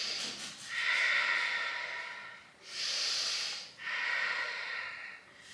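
Three strong, forceful breaths, each a long airy exhale, come close and clear during a Pilates mat exercise, with short pauses between them and no talk.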